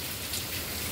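Steady rain patters on surfaces, a soft continuous hiss of drops at moderate distance with no voices.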